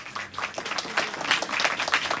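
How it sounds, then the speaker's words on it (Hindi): A church congregation clapping in a short, dense burst of applause, moderately loud and building slightly toward the end. "उसके लिए जरा जोर से तालियां तो बजाइए"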